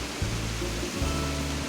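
Waterfall in the video game Animal Crossing New Horizons on a swamp-themed island, a steady broadband rushing wash with low pulses running beneath it, alone and fairly loud.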